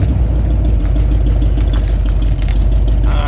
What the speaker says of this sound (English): It's loud and obnoxious, and it's a Jeep.